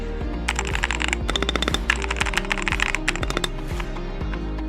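Rapid typing on a mechanical keyboard fitted with modified blue switches, a dense run of crisp close-up keystrokes with irregular rhythm and a few louder thocks, heard alone without speech.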